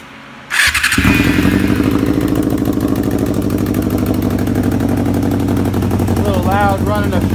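A 2001 Yamaha YZF-R6 engine running a straight exhaust cranks, fires and settles into a loud, close, steady idle with a rough buzzing note, and a voice speaks briefly over it near the end.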